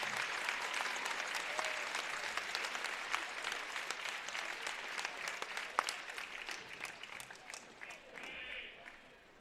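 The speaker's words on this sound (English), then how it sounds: "Please give a big round of applause for our junior high winter athletes." Sustained applause from an audience at a junior high boys basketball game, honoring the winter athletes; steady crowd clapping fills the gym throughout, tapering slightly near the end.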